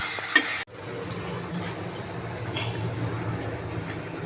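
Chana dal and spices stir-fried in oil in a pan, opening with a short clink and then a continuous close, dense sizzle with faint scraping of the spoon.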